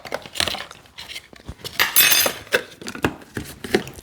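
A spoon mixes a small recipe with fresh berries inside a little container, producing close, rapid clinks, taps and scraping strokes in an uneven rhythm with brief louder bursts.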